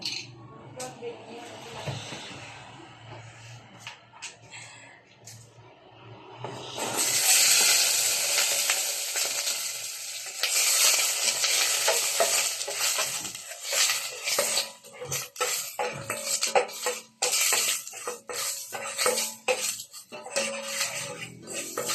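Onion sizzling in a pan while being sautéed for a mung bean dish, quiet and sparse at first, then a loud steady hiss that keeps going with clattering and a voice talking over it.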